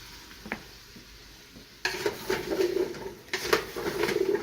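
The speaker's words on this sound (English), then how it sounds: "You're gonna move that around for a little bit, let it get coated" Parsnips, turnips and white onion are stirred in a pot for a beef stew, with a soft scraping, sizzling stir starting after a quiet moment, pausing briefly and then picking up again, close and steady.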